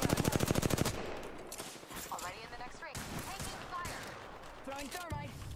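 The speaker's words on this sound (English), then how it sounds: "Getting shot at." Automatic weapon fire in the battle royale shooter Apex Legends. A fast, loud burst of rapid shots opens the clip, then gives way to softer combat noise, ability sounds and chattering voices for the rest.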